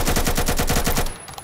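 An AK105 rifle fires in the video game Phantom Forces: a rapid full-auto burst of about a dozen sharp, close shots in even rhythm, then cut off abruptly.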